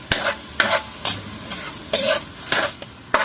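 Japchae, the Korean glass-noodle stir-fry, sizzles in a pan under a run of brisk, regular stirring scrapes, about seven strokes, loud and close.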